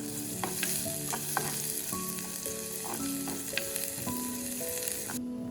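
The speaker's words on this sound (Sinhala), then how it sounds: "පොල් තෙල් ටික රත් වෙගෙන එද්දී අබෑට ටික එකතු කරගත්තා" Mustard seeds and salt crackle in hot coconut oil in a pan for a Sri Lankan mango curry, giving a steady sizzle with sporadic small pops and faint clinks, no speech.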